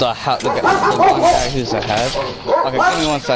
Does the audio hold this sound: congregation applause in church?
no